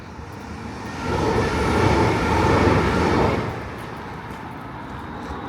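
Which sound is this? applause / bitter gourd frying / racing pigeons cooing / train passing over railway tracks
train passing over railway tracks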